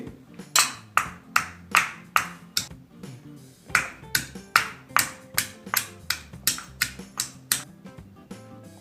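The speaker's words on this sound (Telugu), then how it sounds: "ఇప్పుడు ఉల్లిపాయల్ని దంచుకుందాం." Sharp, rhythmic thuds in quick succession of a pestle lightly pounding sambar onions in a mortar, steady and close with brief pauses between bursts.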